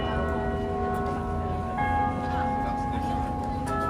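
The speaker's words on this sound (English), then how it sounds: "There's the bells of Waco going off at 1 p.m." Church bells ring out at 1 p.m. in a steady, sustained peal of layered tones over street ambience. The bells continue throughout without a break.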